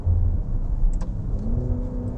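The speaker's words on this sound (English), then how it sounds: "You can just play around with the gearbox, make the car sing in a glorious symphony of V8" A 2023 Maserati Levante Trofeo V8 hums steadily from inside the cabin with a mild rising revving note, loud and continuous without any talk.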